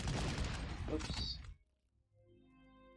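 A big artillery gun fires in the Panzer Corps war strategy game, giving a loud booming, crackling blast for about a second and a half before it drops away to quiet low hum.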